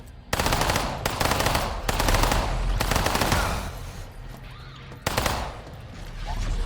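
Weapon gunfire in the System Shock remake video game, loud bursts of rapid automatic fire in several sustained strings with brief pauses between, close and dominant throughout.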